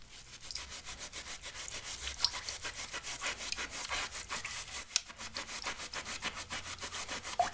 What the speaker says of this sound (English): This is by far the most difficulty I have had removing anything off of a case with a magic eraser.